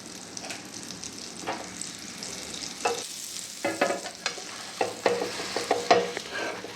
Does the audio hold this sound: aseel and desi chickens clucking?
no